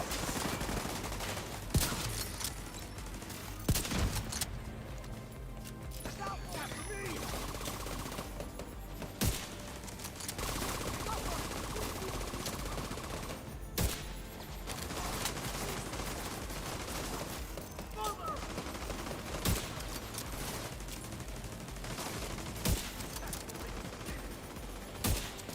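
Gunfire in The Division 2 video game: sustained fusillades of rifle and machine-gun shots, with sharp louder cracks punctuating a constant dense crackle throughout.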